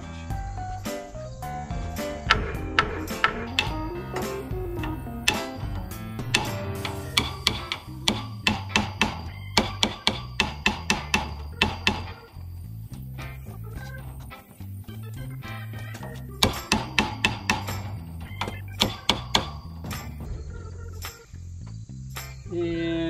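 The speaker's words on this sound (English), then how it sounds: "I got a crowbar and a hammer. I'm gonna see if I can tap those this way." Irregular bursts of sharp knocks and taps from a crowbar and hammer striking metal hog panels, in quick clusters over a steady low hum, with brief pauses between runs.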